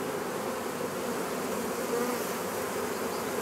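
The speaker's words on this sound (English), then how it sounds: "They are starting to march in. And the bees" A swarm of honey bees gathered in July hums in a dense, continuous buzz, close and steady without breaks, with no talking over it.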